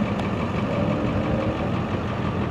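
A Mercedes C55 AMG with Kleemann tuning at an autocross event, its engine giving a steady, loud, rumbling drone throughout from fairly close.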